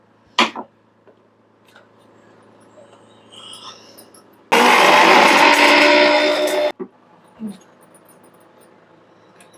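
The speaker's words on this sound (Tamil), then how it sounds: "வெறும் ஏலக்காய் போட்டா எங்க மிக்ஸி அரைக்காது அதனால சக்கரை போட்டு அரைக்கிறோம்" A loud mixer grinder whirs for about two seconds in a short burst, grinding cardamom with sugar, surrounded by quiet clicks and small handling noises.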